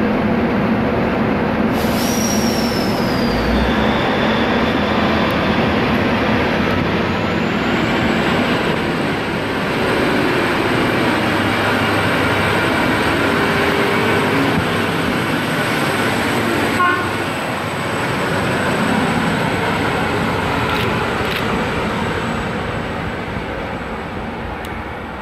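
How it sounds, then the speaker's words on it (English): Endeavour N8 passenger train pulling out of a platform at Mittagong station, a steady loud rolling rumble with wheel noise and a brief high squeal near the start, continuous throughout with no talk. "Endeavour N8 now departing."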